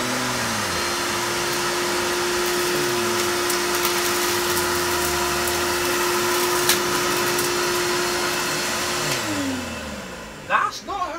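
A bagged vacuum cleaner runs on max with a loud, steady whine and a constant tonal hum, its pitch shifting slightly as it works. Near the end the motor winds down and a few clunks follow.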